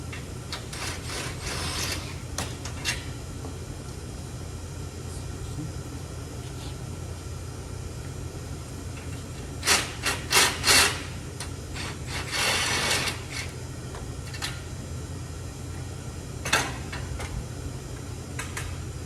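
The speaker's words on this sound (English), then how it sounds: "So you remove these two screws from the back." Screws being backed out of the rear frame of a two-piece sling lounge chair, giving soft ratcheting and scraping clicks with a few louder rattling bursts midway, close by over a steady low background hum.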